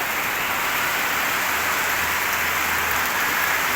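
Heavy rain pours steadily onto a surface at a construction site, a loud, dense hiss that continues without a break and with no talking.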